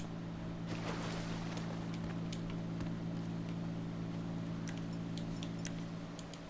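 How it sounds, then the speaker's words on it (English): A steady airplane engine drone in GTA 5 from a seaplane escape, a constant low hum with faint clicks and wind-like hiss over it and no talk. "I could hear the drone of an engine."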